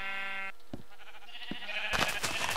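Minecraft sheep bleating in a game city with a free wool area. A nasal, tonal bleat plays first, then a few soft thuds follow, and a brief bright burst of game sound closes the clip.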